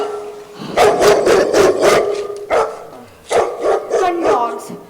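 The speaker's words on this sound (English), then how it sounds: "Gun dogs. They must be starting the shoot again." Gun dogs barking as a shoot starts during a staged summer musical, a rapid run of loud, close barks in bursts with voices mixed in.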